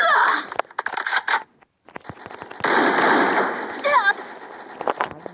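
Rapid gunfire bursts from the mobile battle-royale game Free Fire, sharp crackling volleys in quick clusters with a brief silent gap, then dense sustained firing, close and loud with a player talking over it.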